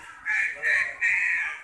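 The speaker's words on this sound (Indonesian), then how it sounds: "Tuh, ada suaranya burung." A white-bellied sea eagle calls at Ragunan Zoo, three drawn-out, fairly loud cries in quick succession, each lasting a few tenths of a second, close by and without talk over them.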